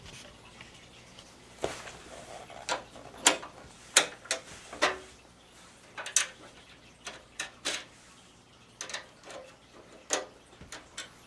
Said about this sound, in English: I'm using the screwdriver only to tighten them at the final bit.